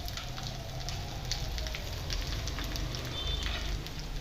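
Garlic cloves, five or six of them, and pieces of ginger sauté in a pan, giving a steady, close sizzle and crackle of hot oil with no voices.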